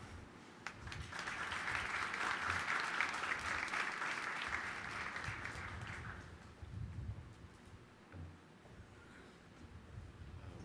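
An audience at a university Reconciliation Day commemoration claps steadily for several seconds for students, then the applause fades out into quieter room noise and shuffling.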